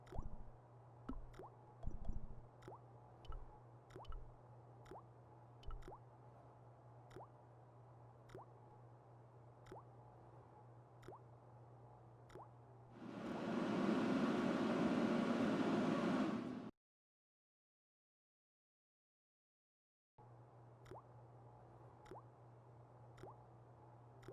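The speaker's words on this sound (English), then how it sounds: "The cold taps washer looked to have failed. It was just dribbling down the sink." A rusty cold tap with a failed washer in Broken Sword: Shadow of the Templars – Reforged, in Paris, drips into a sink in a slow, regular series of small plops over a low steady hum, with a brief noisy burst midway.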